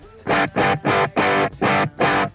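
An electric guitar runs through an amp's crunch channel, giving an aggressive, overdriven tone: six evenly spaced chopped chords strike in a steady rhythm, loud and close, with brief gaps of near silence between them.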